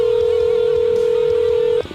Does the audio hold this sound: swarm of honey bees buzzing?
no